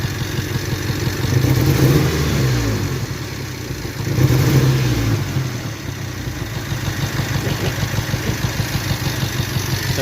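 Toyota 4Runner engine with a misfire, revved twice with swelling surges, then settling to an uneven, pulsing idle, close and loud with no talk.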